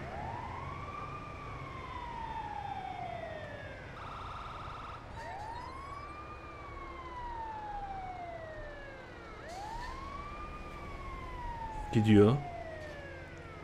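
A wailing ambulance siren in GTA 5 rising and falling in long repeating sweeps, steady and fairly close, with a brief loud knock near the end and someone speaking once.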